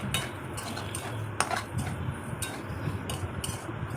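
Taro pieces being stirred with spices in a pan, close utensil scrapes and clinks against the pan over a low frying hiss, a few sharper knocks, no voices.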